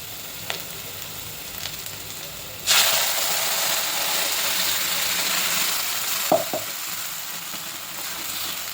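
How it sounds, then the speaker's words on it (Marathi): Ground masala paste hits hot oil with sautéed onion in a kadhai for a Malvani fish curry, bursting into a sudden loud hissing sizzle that holds steady, with a few spoon clinks against the pan. "कांदा थोडासा परतल्यावर ते वाटलेलं वाटण टाकते।"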